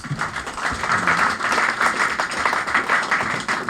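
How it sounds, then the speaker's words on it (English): Round of applause from an audience for members of the House at an electricity bill MOU signing in Lagos, steady dense clapping filling the whole stretch, moderately loud and without talk. "I think they deserve a round of applause"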